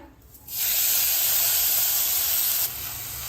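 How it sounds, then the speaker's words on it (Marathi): Soaked barnyard millet hits hot ghee with cloves and bursts into a loud, steady hiss that holds for about two seconds, then settles to a softer sizzle, close up with no talking. "आता ही भिजवलेली वरई घालूया।"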